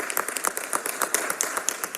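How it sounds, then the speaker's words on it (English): A council meeting audience applauds the mayor's team, giving a brief, dense round of many overlapping hand claps that stays steady and fairly close throughout, with no speech over it. "So if we could just give the mayor's team a round of applause"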